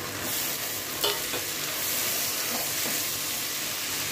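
Tomatoes frying with ginger, garlic and softened onion for a paneer dish make a dense, even sizzle close by, with a few faint stirring scrapes and one brief knock.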